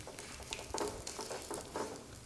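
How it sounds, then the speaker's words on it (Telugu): Peanuts and dried coconut frying lightly in a little oil, giving a soft, steady sizzle with small crackling pops and faint stirring sounds, close and fairly quiet. "ఈ నూనెలో పల్లీలు, ఎండు కొబ్బరి ఇవి లైట్గా వేగిన తర్వాత"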